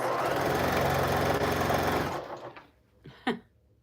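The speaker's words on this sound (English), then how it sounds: "I'm going to take a light and a dark and sew these two together" A sewing machine stitches a light and a dark quilt piece together, running steadily and loud for about two seconds, then stopping, followed by a few faint handling clicks.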